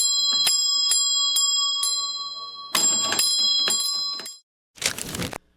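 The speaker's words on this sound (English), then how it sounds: "This system comprised a row of bells hanging on wall hooks, each labeled with the name of a room. Staff members would ring the bell when help was needed." Servant bells on a butler bell board in a large 1800s home ring out in bright, clear strikes: a steady run of single dings, then a quicker cluster, ending with a short burst of rattling.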